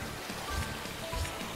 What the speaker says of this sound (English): Oh, this rain. Shut up.